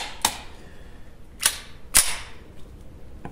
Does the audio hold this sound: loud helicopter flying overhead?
no